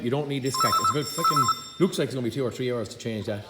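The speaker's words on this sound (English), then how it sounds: "Sorry about the phone, I'm going to answer there now." A telephone rings with two short trilling bursts under a man's ongoing, close speech in a workshop setting.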